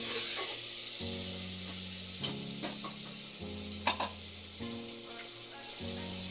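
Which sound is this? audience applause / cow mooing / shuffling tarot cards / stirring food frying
stirring food frying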